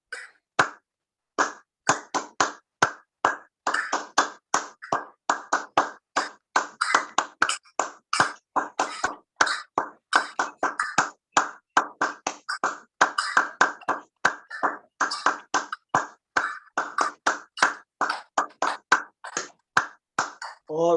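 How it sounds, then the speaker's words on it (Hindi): A group claps hands together in a morning yoga session, rapid sharp claps repeated steadily for the whole stretch at moderate loudness, with no talking over them. "आइए ताली वादन करेंगे"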